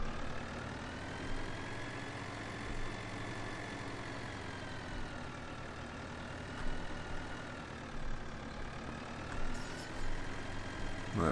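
In the Farming Simulator 2013 video game, a tractor engine drones steadily as it reverses, a continuous low hum with slight swells and no talking.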